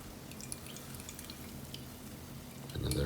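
Water trickles and drips into a cup holding yogurt, a soft, close splashing that swells into a fuller pour at the end.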